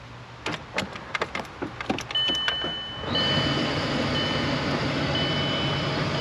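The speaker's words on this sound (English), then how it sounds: "Oh yeah, there's the blower." In a 2003 Volkswagen Eurovan T4 with a previously faulty front blower, a few clicks and beeps sound before the front blower fan kicks on about halfway through, settling into a loud, steady whooshing roar.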